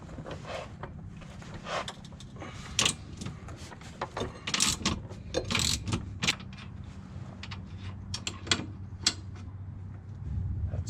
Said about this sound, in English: So all I gotta do is take off an extra bolt.